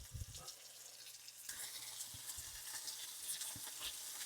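Beef searing in a pan of bacon grease for a beef and barley stew, a faint steady sizzle with soft pops and occasional low knocks, quiet and unaccompanied by speech.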